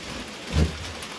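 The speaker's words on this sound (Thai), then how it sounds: "ฝนมาแล้ว ฝนตก หลังคานี่มันเสียงดังหน่อย" Rain falls on a roof as a steady, fairly loud hiss, with one brief low thump partway through and no voices.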